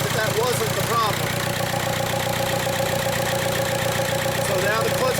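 A Volkswagen car engine idling with the AC compressor clutch engaged, a steady, close mechanical hum and whir running without a break, with someone talking over it.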